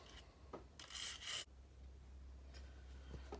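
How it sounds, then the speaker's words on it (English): Scrubbing on a plastic model train body from a Hornby HST, heard as faint, steady rubbing strokes with one brief louder burst of friction near the start, nearby and with no voices. "I'm just going to keep scrubbing away to get the result"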